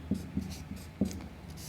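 Chalk or marker strokes on a classroom board during a lesson on linear equations, heard as a few short, soft scratching taps spaced irregularly over a faint, quiet room background.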